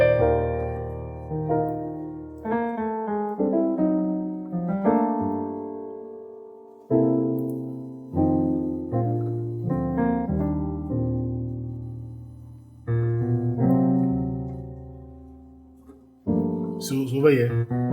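Piano chords containing a tritone played one after another with some brief pauses, moderately loud and close, ending with a bright high flourish; no talking.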